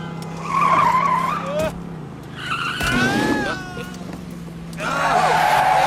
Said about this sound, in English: And in car number 9, this Ernest P. Worrell, the screaming demon, going for his second track record tonight